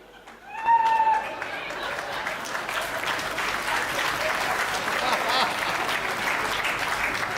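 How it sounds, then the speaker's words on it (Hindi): An audience at a Hindi comedy poetry show breaks into loud, sustained clapping, which holds steady for several seconds after a voice and a brief tone at the start. "अगर वो पसंद आ जाए तो ताली बजा देना"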